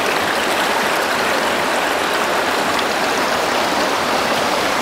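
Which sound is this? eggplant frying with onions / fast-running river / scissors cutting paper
fast-running river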